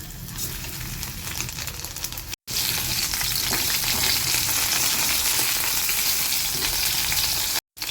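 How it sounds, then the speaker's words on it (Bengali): Chicken pieces fry in hot oil for a chilli chicken dish, a loud, continuous sizzle and crackle that cuts out twice for an instant, with no voices. "চিকেনটা বেশ ভালো করে লাল করে ভাজা হয়ে গেছে"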